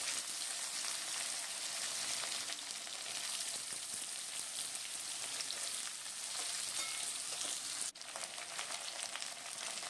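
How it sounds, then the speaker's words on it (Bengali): Diced potatoes fry in oil for a traditional Bengali banana-flower dish, a steady, fairly quiet hiss of spattering fat that runs unbroken apart from one brief dip near the end. "দুটো আলু কেটে ডুমো ডুমো ডুমো করে কেটে রেখেছিলাম সেটা এবার ভালো করে ভেজে নেবো"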